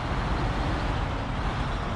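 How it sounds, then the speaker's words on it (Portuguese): Truck in SnowRunner pulling up beside a broken-down truck: a constant, close engine rumble and broadband motor noise hold steady throughout, with no voices. "O nosso caminhão eu vou estacionar aqui ao lado desse que está estragado."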